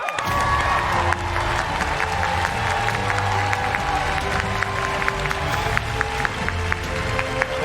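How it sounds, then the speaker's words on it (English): Loud, close applause and cheering from a TwitchCon cosplay contest crowd greet the fan favorite winner, who appeared as Zelda. Steady dense clapping is mixed with whoops and a few shouts. "please start clapping for the fan favorite winner of the evening, Jingle Boo Boo as Zelda"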